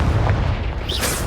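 Fire-spell explosion from Hogwarts Legacy, a loud booming blast with a deep low rumble that sustains for about a second, then a brief crackling burst at the end.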